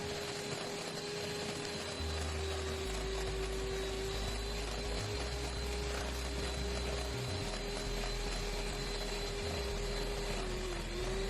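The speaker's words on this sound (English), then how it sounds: "as I'm whisking, the mixture is becoming more mousse-like and more frothy. This process will take between 3 and 5 minutes with an electric" An electric whisk whips vanilla dalgona coffee mixture into a frothy mousse, giving a steady, fairly quiet motor whine with a low rumble that runs unbroken from start to finish, with no talking.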